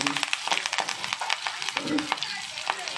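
Hilsa wrapped in gourd leaves frying in hot mustard oil on a tawa over low gas, a steady close sizzle with crackling pops and occasional scraping stirs.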